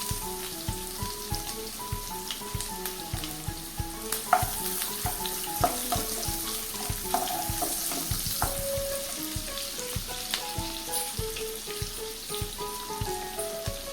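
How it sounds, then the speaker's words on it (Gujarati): Finely chopped onion sizzles in oil over a low flame, a constant close crackle of frying punctuated by regular metallic taps of stirring. "અને તરત જ આપણે એક બારીક સમારેલી ડુંગળી એડ કરી દઈએ"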